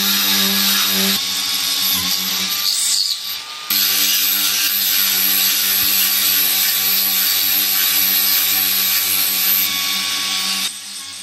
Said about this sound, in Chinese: 接下来用角磨机打孔